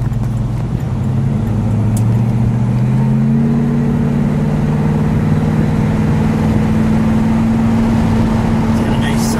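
A 1970 Chevrolet Monte Carlo SS 454 big-block V8 runs with a low, throaty but subdued rumble, its pitch rising slightly as the engine settles, heard up close under conversation.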